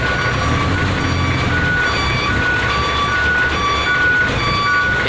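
A 40-foot trailer truck reversing into a tight parking spot, its backup beeper sounding loud and steady in a regular repeating pattern over a constant heavy engine rumble.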